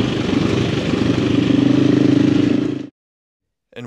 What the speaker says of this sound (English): while you are watching me ride the Husky FE350 on these amazing Portuguese trails